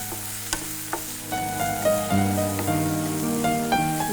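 Ridge gourd sabzi with onion, ginger and garlic sizzling in a pan while a spoon stirs it, steady frying hiss with sharp scraping clinks against the metal, close and alone without speech.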